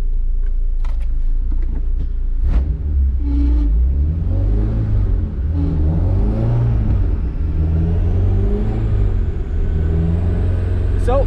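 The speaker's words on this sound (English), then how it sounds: "Now I'll start driving, get up to speed," A Kpro-tuned car pulls away and accelerates up through its gears, its engine note climbing in pitch and then resetting between shifts, heard close and loud from inside the car.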